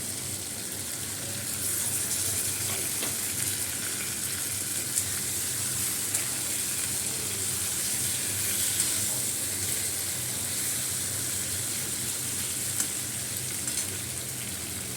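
Fish pieces frying in sautéed spice paste in a pan, a steady, even sizzle hissing continuously throughout with occasional faint clicks and no talking.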